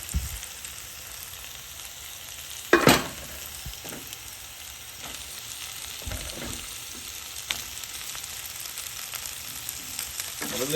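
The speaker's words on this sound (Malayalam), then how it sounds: "ഇനി നമ്മളിതിലേക്ക് ആ ചിക്കൻ ഇടാൻ പോകട്ടോ" Chicken pieces hit a hot pan for spaghetti and set off a loud crackling burst, followed by a steady close sizzle of frying. Occasional stirring scrapes break in, and there is no talking.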